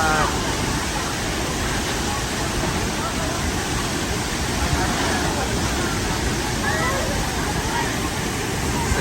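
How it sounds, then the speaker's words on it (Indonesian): The Telun Berasap waterfall in Kerinci roars in a steady, dense, loud rush of water that fills the whole scene without pause. "ini namanya air terjun Telun Berasap."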